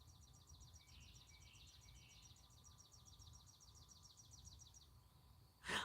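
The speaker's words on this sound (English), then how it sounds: "Can y'all hear the birds?" Birds sing outdoors, faint and distant: a rapid run of repeated high chirps fills most of the stretch before trailing off, over a low background hum and a brief rustle at the end.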